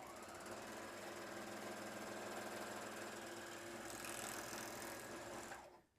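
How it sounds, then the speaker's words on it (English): A Juki MO-1000 serger stitches through two layers of denim, a fast, continuous mechanical chatter heard up close for nearly six seconds before it winds down. "let's give a try to 2 layers of denim"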